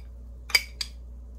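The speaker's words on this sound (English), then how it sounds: "But I'm mixing my peas and my butter." A utensil strikes a dish twice in quick succession while peas and butter are mixed, giving two short, bright clinks in a quiet room.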